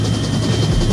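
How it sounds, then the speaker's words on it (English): Helicopter in the VR shooter Onward, a loud continuous rotor and engine drone with a steady low throb, close by and unbroken, with no voices over it. "the helicopter's right here"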